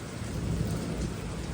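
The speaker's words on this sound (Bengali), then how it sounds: "এখন হচ্ছে বাহিরে এত বৃষ্টি হচ্ছে" Heavy rain pours steadily outside with thunder rumbling through it, a dense, continuous wash of noise with no voices.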